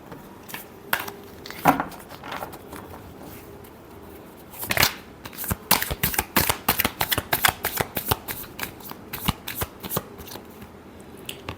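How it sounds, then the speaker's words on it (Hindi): Tarot cards being shuffled by hand at close range, a few scattered riffles and flicks at first, then a long burst of rapid, crisp card slaps and riffles, no talking. "एक लास्ट शफल करते हैं एरीज"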